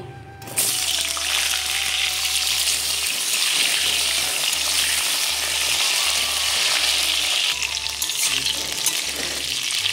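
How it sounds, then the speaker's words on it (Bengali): Loud, steady sizzling of sliced pointed gourd frying in hot oil starts abruptly and continues throughout, with a faint rhythmic tone underneath. "এবারে কেটে রাখা পটলগুলো আমি ভেজে নেব"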